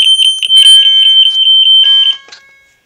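A loud, piercing electronic fire alarm tone beeping in rapid repeated pulses close by, stopping abruptly near the end.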